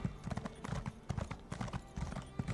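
A horse trots in the Elder Scrolls Online video game, a quick steady clip-clop of hooves, fairly soft and close.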